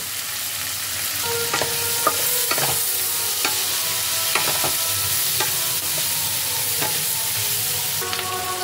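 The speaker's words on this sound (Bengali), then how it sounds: "হাই হিটে সবজিগুলোকে আমি ফ্রাই করে নেব।" Vegetables stir-frying over high heat with ground black pepper, a constant close sizzle broken by repeated sharp clinks and scrapes of a utensil against the pan, with no one talking.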